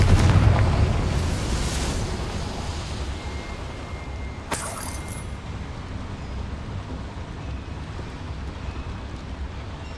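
A Confringo spell blows up a boiler in the game Hogwarts Legacy, a loud booming blast at the start that rolls into a long rumbling decay, with a brief sharp crackle a few seconds later.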